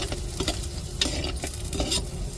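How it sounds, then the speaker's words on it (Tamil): Curry leaves hit hot oil in a pan while cooking an egg and drumstick aviyal, giving a steady, close, crackling sizzle with a few stirring scrapes throughout. "இப்போ கருவேப்பிலை சேர்த்துக்கிடுவோம்."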